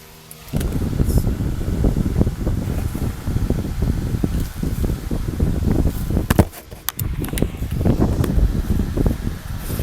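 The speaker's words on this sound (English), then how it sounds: "Fan's blowing pretty hard." An electric fan blows hard in an outdoor workshop during tie rod and CV axle work on a 1992 Mitsubishi Galant, a loud, gusty, rushing noise that starts abruptly and stays steady, with a few clanks.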